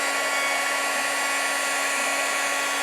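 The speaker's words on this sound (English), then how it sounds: "Now we're going to bring in our heat gun. And we're going to heat set from the bottom so we don't blow anything." A heat gun blowing steadily while heat-setting embossed acetate from underneath: a loud, constant whirring rush of air with a faint motor whine, unbroken from start to finish, close to the mic and with no voices.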